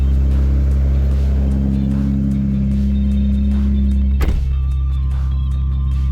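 A car engine runs loud and steady inside a shut garage, its deep low drone filling the enclosed space, with a brief thump partway through and the rumble continuing after.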